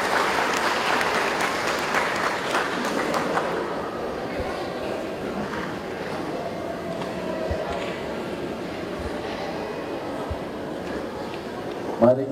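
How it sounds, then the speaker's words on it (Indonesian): Audience applause at a Christmas gathering of the Byak tribe's extended family in Sorong, a dense steady clapping that fills the clip, loudest early and easing slightly, with some talk mixed in. "Mari kita berikan tepuk tangan sekali lagi."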